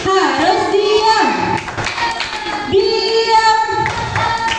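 In a children's clapping game, young voices chant in unison while rhythmic hand claps and taps punctuate the chant, loud and close.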